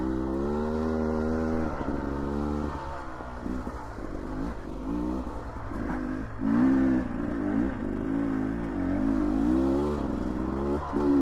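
Engine of a 2024 Beta 300RR dirt bike while riding, a close, steady buzzing drone that rises and falls with throttle, with a few sharper revs toward the middle and end.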